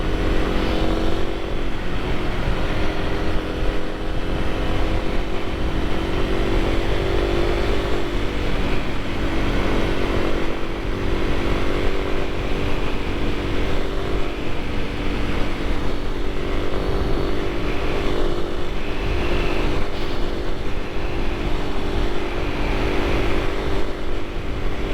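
A Kawasaki KLX 300 supermoto motorcycle being ridden, its single-cylinder engine droning close and continuous with shifting revs, mixed with steady wind noise throughout.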